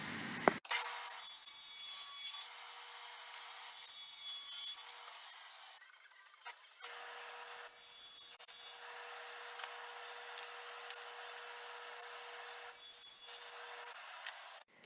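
Table saw ripping two pieces of 3/4-inch-thick wood with the fence set at 4 1/4 inches for a fireplace mantel surround, a steady loud whining cut in two long passes with a brief drop in between.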